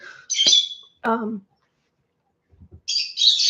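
Pet birds indoors let out sharp squawks and a chirping call in bursts, loud and close, with a pause of near-silence before another harsh squawk at the end.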